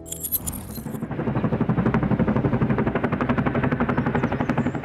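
Boeing CH-47 Chinook twin-rotor military cargo helicopter, its rotors beating in a fast steady loud chop that builds after the first second and holds close.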